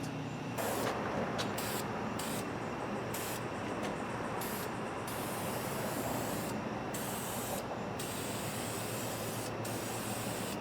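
Spray can hissing as high-temperature paint goes onto Hedman headers for a Pontiac Trans Am, a steady close spray broken by short pauses between bursts, with no talking.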